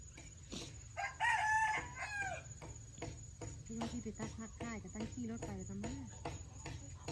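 A rooster crows once near the start, followed by clucking and someone talking, with a constant high insect drone underneath.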